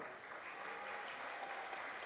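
Warm applause from a party audience greeting Suwon mayor Lee Jae-jun at a political talk concert in Gyeonggi-do, a steady, dense wash of clapping that holds evenly for the whole stretch.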